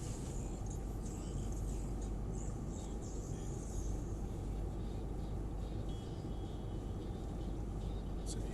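A Mercedes-Benz Unimog U17 4x4 drives off-road around a turn, its engine a steady, heavy rumble heard from inside the cab with constant low drone and road noise.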